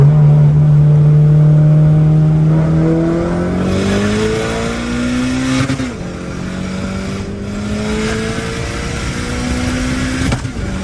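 A turbocharged car engine revs hard and climbs through several gear pulls, loud and close with a rising drone, alone with no talk.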